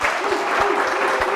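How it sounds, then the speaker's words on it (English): Audience applause for a DJ at the close of a comedy-style showdown event, a loud continuous wash of clapping with a few heavier thumps, brief at just over a second. "And of course, a round of applause to my DJ,"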